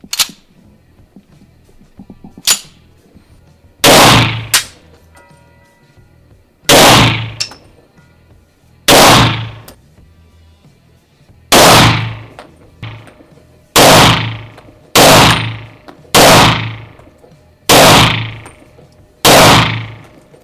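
Rock Island M1911 A1-FS pistol in 9x21 firing Fiocchi ammunition, with about eleven loud, sharp shots spaced a second or two apart, each with a short ringing tail, and no talking.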